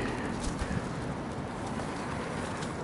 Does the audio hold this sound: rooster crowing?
no